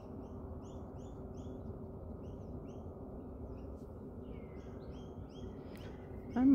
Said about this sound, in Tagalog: Huni ng ibon.